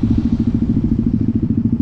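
A Rieju R1 motorcycle engine putters close by in a rapid, even pulsing rumble, loud and continuous while riding.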